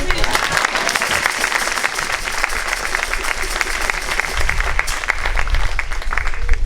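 Sustained applause from a church congregation at a closing Mass, a thick, even wash of many hands clapping with crowd murmur underneath, holding steady throughout.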